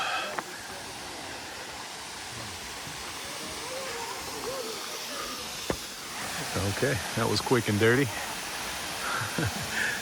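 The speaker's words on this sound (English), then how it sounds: "Not a very monstrous waterfall, but it's cute." Madison Falls, a small waterfall in the rainforest of Olympic National Park, gives a steady broadband rushing hiss throughout, with people talking over it in the latter half.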